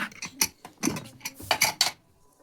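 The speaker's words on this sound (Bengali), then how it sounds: "আমি এখন প্রেসার কুকার থেকে আমলি ওটা বের করে নিচ্ছি" Boiled amla gooseberries being lifted out of a pressure cooker, heard as a few close, sharp clinks and scrapes of a metal spoon against the pot in short separate bursts, with no talking.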